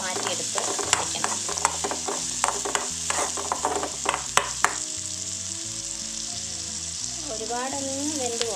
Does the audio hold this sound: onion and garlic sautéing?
yes